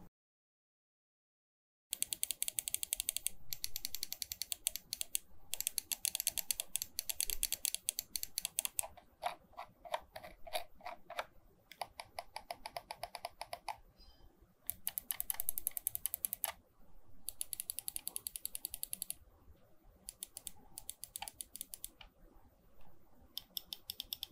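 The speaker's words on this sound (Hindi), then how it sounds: "अब इस माउस के बटन्स का साउंड टेस्ट परफॉर्म करके देखते हैं" Buttons on a GAMDIAS ZEUS P2 RGB wired gaming mouse, rated for 20 million clicks with medium resistance, click over and over in quick, uneven bursts, sharp and close, with a few short pauses between runs and no talking.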